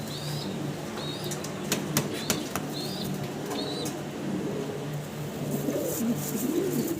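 Giant homer pigeons flap their wings in repeated short bursts, with low cooing and a few brief chirps nearby in a loft.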